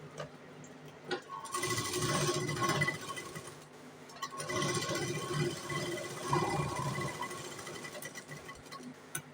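Sewing machine stitching half-inch tucks on a katori blouse, running in two long steady bursts of rapid mechanical clatter separated by a brief pause, close and clear with no talking.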